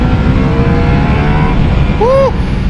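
A Ducati Multistrada V4S motorcycle's V4 engine accelerating hard through quickshifted gears, loud and close with a dense roaring drone and a quick pitch sweep near the end.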